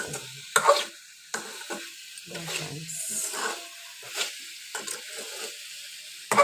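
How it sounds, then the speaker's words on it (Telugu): Spicy potato fry cooking in a pan, with intermittent spatula scrapes and stirring bursts over a soft, low sizzle, close and uneven in rhythm. "టూ మినిట్స్ బాగా మగ్గనిస్తే ఆలుకు మాత్రం ఆ స్పైసీనెస్ పడతాయి."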